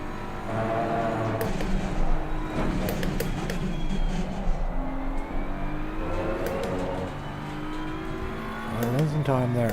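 A BMW race car engine in Assetto Corsa Competizione, driven during a qualifying session, drones and revs in shifting tonal layers, with gear changes and rising pitch sweeps, loud and steady throughout.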